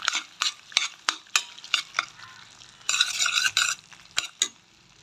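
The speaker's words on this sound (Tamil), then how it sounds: "ஊற்றி மறுபடியும் கிண்டுறோம்." Penne pasta stirred in a pan after a drizzle of oil, with repeated sharp scraping strokes of a utensil against the pan in a quick rhythm and a short burst of louder sizzling and clatter midway, close and clear.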